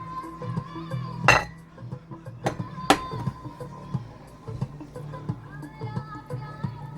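Ceramic bowl and utensils clink in a kitchen as instant noodles go into the bowl: a few sharp close knocks and chimes, a loud pair early on, then lighter scattered taps and scrapes.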